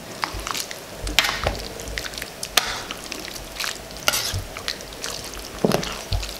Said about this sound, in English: You have to stir it.